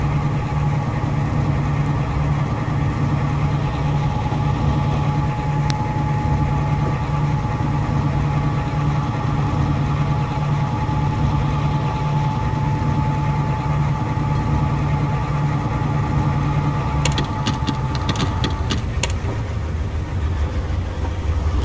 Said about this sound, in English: the engine noise pretty much drowns out the air horn and the bell.